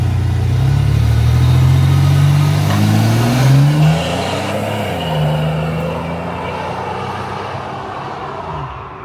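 A 1991 GMC Syclone pickup's engine revs up loudly and close, climbing in pitch through several rising pulls, then settling back toward idle as the sound tapers off, with no talking.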